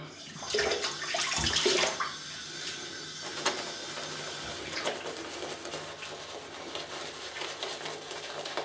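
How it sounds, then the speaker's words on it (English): Water splashes and trickles as a shaving brush knot is dipped and wetted, louder splashing early on, then softer dripping and faint handling clicks, close up. "Let me just start adding water."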